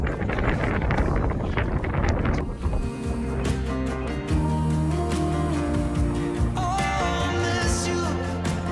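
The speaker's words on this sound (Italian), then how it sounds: "c'è un vento incredibile, abbiamo i piedi nell'acqua" Strong wind gusting across the open tidal bay of Mont Saint-Michel, a loud, steady roar that fills the whole clip with constant buffeting, with low tonal hum and rumble running underneath.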